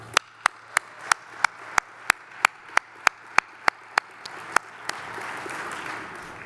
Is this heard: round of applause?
yes